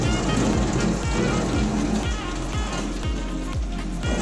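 A hose sprays water against a newly installed CRL sliding door window on a Sprinter van, making a steady, loud hiss and splatter with rhythmic pulses as the stream sweeps across the glass.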